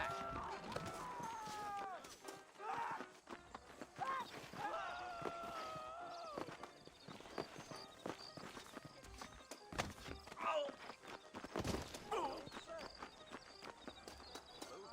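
Horse hooves clip-clop at a walking pace in the video game Red Dead Redemption, beneath music and occasional voices, steady and moderately close throughout.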